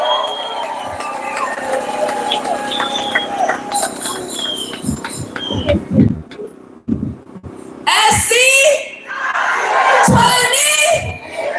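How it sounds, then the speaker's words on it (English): A crowd at an SEIU union rally at the state Capitol cheers and claps. The noise is mixed and uneven at first, then swells into loud bursts of whooping and applause near the end. "Let's give a big round of applause for Assemblymember Sade."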